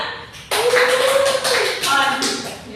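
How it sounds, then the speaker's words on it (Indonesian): Classroom students clap for a classmate at a teacher's prompt, a burst of close, fairly loud hand clapping from a small group mixed with voices talking over it. "Boleh tepuk tangan?"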